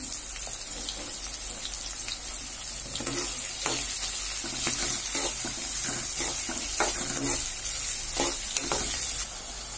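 Green chili and curry leaves fry in a hot pan for shavige uppittu. The oil gives a steady, close sizzle, with intermittent scraping as the pan is stirred.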